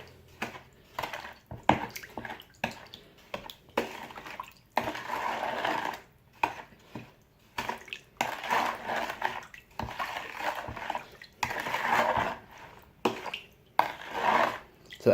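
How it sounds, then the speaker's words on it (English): Orange juice concentrate is broken up in a pitcher with bursts of wet scraping, stirring and sloshing, with irregular knocks against the container and short pauses between strokes, close and moderately loud. "I'm just gonna break up the orange juice concentrate."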